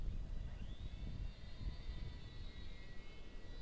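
A small UMX Radian RC glider flying under electric motor power, a thin steady whine that rises slightly in pitch, heard from a distance over rumbling outdoor wind noise, with no voices.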